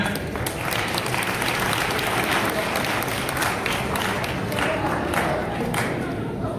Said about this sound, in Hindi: अध्यक्ष के लिए जोरदार तालियां।